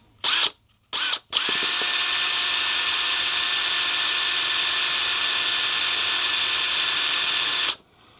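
A power drill drilling through cardboard whirs in two quick bursts, then runs at a steady high pitch for several seconds before stopping, close and loud.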